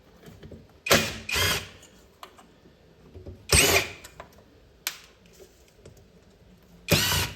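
A power drill whirs in several short bursts while restoring an arcade cabinet, close and loud, separated by pauses with small clicks and handling noises.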